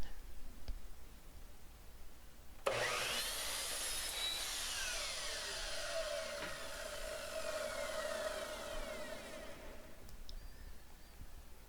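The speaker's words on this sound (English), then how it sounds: "What I'm doing here is I'm just going to miter all the corners" A power saw makes miter cuts on wooden corner pieces for workbench storage, one continuous whining cut of about seven seconds with a sharp start and fading finish, heard close over a quiet workshop background.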